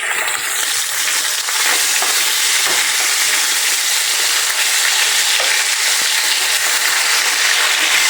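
Koi fish frying in oil in a pan, a loud, steady dense sizzle running throughout with a few faint clicks of the fish being turned over.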